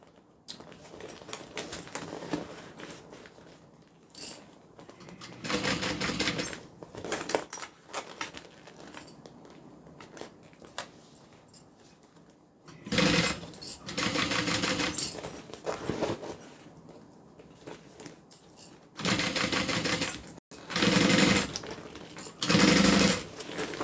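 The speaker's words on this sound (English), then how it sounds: "So that's the top stitching right here." A sewing machine top stitching a crossbody bag, running in several loud rattling bursts of a few seconds each, separated by quieter pauses with faint handling sounds, close up and with no talking.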